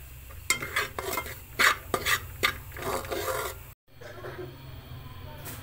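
Semolina being stirred and roasted in a pan for halwa, a spoon scraping and rasping through the dry grains in repeated strokes, close and moderately loud with a faint sizzle underneath.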